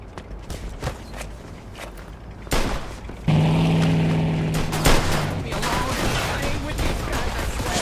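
Scattered gunshots crack through a shootout in Mafia II Definitive Edition on PS5, mixed with footsteps, a sustained droning tone and voices talking over the action.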